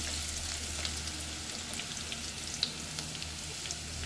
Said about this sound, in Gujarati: થોડી હિંગ, બરાબર સાતળી લેવાનું।